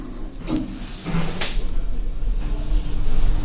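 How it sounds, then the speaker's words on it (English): Lift doors slide shut with a soft, hissing whoosh and a muted thud, the motion sound steady over a low mechanical hum and room noise. "Doors closing."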